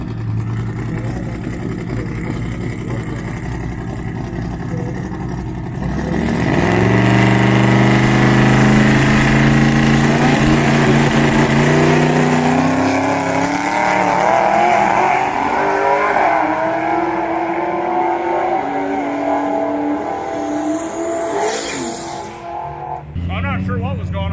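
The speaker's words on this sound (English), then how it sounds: "Racing a GTR over here, so this will be a pretty cool match." A Buick race car drag racing a Nissan GTR at a race week event: a loud engine idle gives way to a hard launch and rising revs through several gear changes, then fades as the cars pull away, with talk audible underneath.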